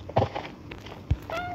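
A cat in a home garden gives a short, rising meow near the end, preceded by a few soft thumps and rustles nearby.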